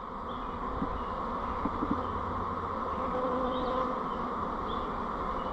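Honey bees buzz in a steady, dense drone as they are shaken down from brood frames to make nucs, a close continuous hum with a few faint knocks and no talking.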